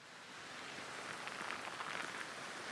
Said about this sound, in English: Rain is picking up a lot, so are the winds.